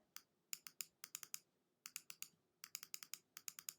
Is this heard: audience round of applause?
no